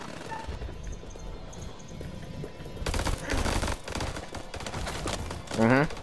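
Bursts of gunfire in the horror video game House of Ashes, a dense run of rapid shots that comes in partway through over a low background of music and ambience, with a voice speaking briefly.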